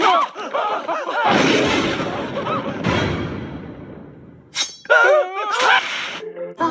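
Cartoon gunshots from Family Guy ring out as a loud, booming volley of blasts that fills the middle of the clip, with animated character voices shouting before and after.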